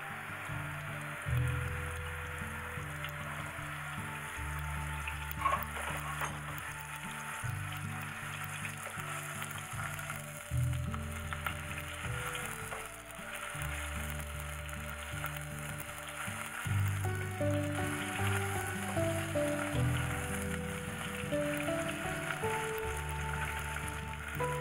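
Chopped onion fries in hot oil for beef biriyani, making a continuous, rain-like sizzle throughout that sits under louder rhythmic background music.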